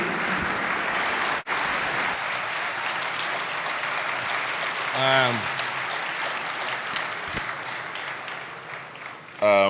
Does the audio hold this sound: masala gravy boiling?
no